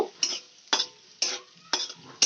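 Dried red chilli and a bay leaf fry in hot oil as a tempering for a lentil dish with bottle gourd and bitter gourd, heard as a soft sizzle broken by five evenly spaced, sharp spatula scrapes.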